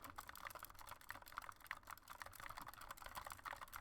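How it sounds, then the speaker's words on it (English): Rapid typing on a computer keyboard, a quiet, close stream of irregular key clicks with small bursts and pauses, heard alone. "I'm such a good typer."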